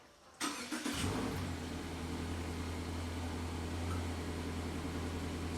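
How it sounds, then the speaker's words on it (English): Subaru Impreza Sport with a stock muffler fires up from cold: a starter crank and catch, then a steady, fairly quiet low idle that settles in and holds close by. "We're gonna see what it sounds like off a cold start"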